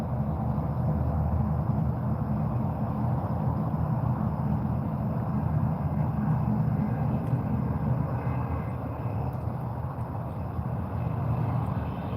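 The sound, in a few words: small engine running, likely aircraft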